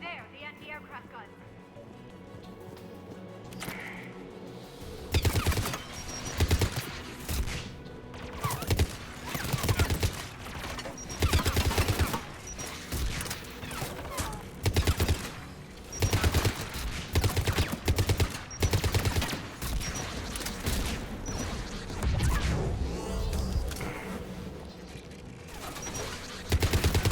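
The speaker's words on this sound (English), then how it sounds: "There, the anti-aircraft guns." Anti-aircraft guns firing in the video game Mass Effect 3, rapid bursts of heavy automatic fire that start after a quiet opening and then repeat loudly in volleys throughout.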